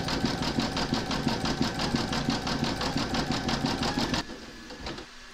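Close and loud, an embroidery sewing machine stitches an alphanumeric gnome quilt block with a fast, even needle rhythm for about four seconds before stopping, leaving a low hum.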